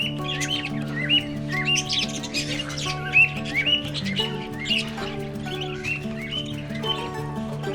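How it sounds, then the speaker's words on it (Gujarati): Parrots squawking in a temple aviary: a close chorus of harsh, repeated calls and chirps over a steady tonal hum. No talking. "પોપટ છે કલરના મિત્રો"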